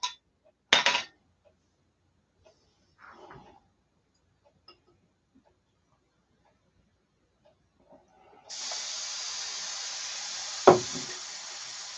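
An airbrush sprays with compressed air from a tank holding about 100 pounds, a steady hiss starting partway through after scattered clicks and knocks, with a sharp tap during the spray.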